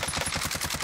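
An XM4 rifle firing in Call of Duty Warzone, a rapid, dense automatic burst of close shots lasting under a second, with no speech.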